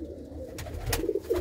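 A pair of white-eyed pigeons coos softly in short murmuring phrases, close by and moderately quiet, with faint background noise and no talking.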